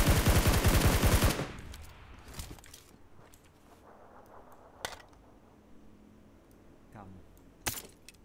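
A burst of rapid automatic gunfire rattles loudly in PUBG, then cuts off and gives way to scattered single shots and clicks at a distance.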